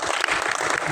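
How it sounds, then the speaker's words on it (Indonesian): An audience claps at a language agency briefing session in a Jakarta hotel, a brief burst of steady, dense applause. "Tepuk tangan dulu dong."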